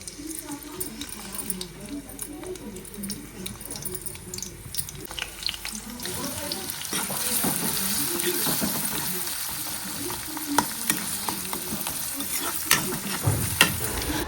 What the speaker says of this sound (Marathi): तर आता आपण काजूच्या भाजीला फोडणी देऊन घेतली.